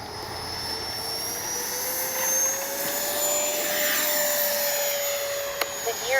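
Freewing 90mm F-4 Phantom II radio-controlled jet lifting off, a loud sustained ducted-fan whine with a slowly rising pitch that stays close and steady, ending with a sharp click.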